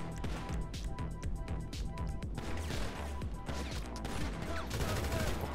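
Rapid bursts of gunfire in the online action game GTA Online, dense overlapping shots and crashing impacts firing almost continuously, loud and close throughout.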